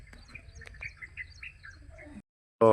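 Birds chirp and tweet steadily at a moderate distance in a village over a low background rumble, cut off by a sudden loud burst of noise near the end.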